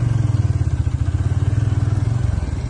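Motorcycle climbing uphill on a badly broken mountain road, its engine close and loud, running steadily with a pulsing, labouring throb and some rattling clatter throughout, no talk.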